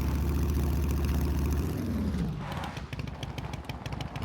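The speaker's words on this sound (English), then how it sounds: "Definitely the best motorcycle in the game." A motorcycle engine in the video game SCUM, a loud low rumble that fades and shifts into a lighter, rougher rattling drone as the bike rides on.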